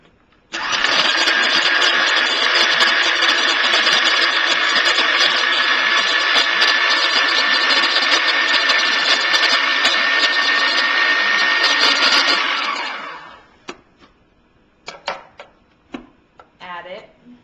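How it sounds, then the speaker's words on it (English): A small kitchen blender chops cilantro, onions and tomatoes for salsa, a loud continuous motor whir lasting about twelve seconds before cutting off, followed by a few short clatters. "we're going to put cilantro and onions and tomatoes onto our little blender"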